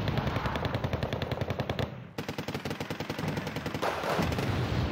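Rapid machine-gun bursts and booming artillery impacts rattle through a NORAD Wargame battle, dense repeated shots with brief gaps between volleys, loud and close.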